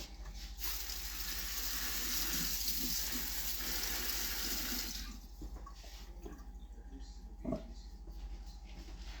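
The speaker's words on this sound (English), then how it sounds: "I'm going to fill that up the rest of the way with water." Tap water runs steadily into a kombucha brewing vessel, a continuous rushing pour for about five seconds before it stops, followed by quieter clinks and a brief knock nearby.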